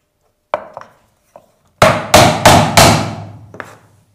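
A small hammer taps a timber glue-up for a cheeseboard: a few sharp, isolated knocks, then four loud, evenly spaced blows in quick succession, and one last lighter tap, close and clear with no talk.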